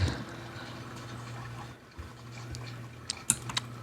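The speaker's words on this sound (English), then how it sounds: "next up is drown, which fills the cell with water from the looks of it" Water gushing in to fill a prison cell in a Roblox horror game, a steady rushing wash with a low hum that dips briefly midway, followed by a few sharp ticks and clicks near the end.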